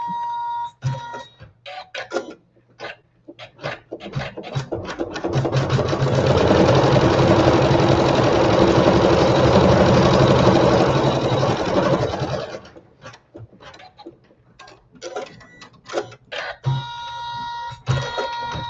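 A sewing machine stitching blossom placement lines on a quilt, starting with short bursts of stitches, then running fast and loud for about seven seconds before slowing back to intermittent short runs, close and alone.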